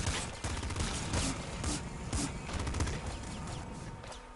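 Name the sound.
gunfire in video game Nuclear Throne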